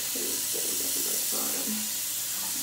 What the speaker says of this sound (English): I'm just rinsing off the knife right now that I've been using. Especially with warm water.